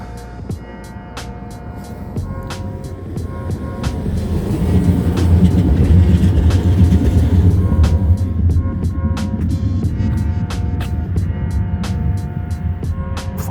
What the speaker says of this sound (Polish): Właśnie jest tramwaj taki, słuchajcie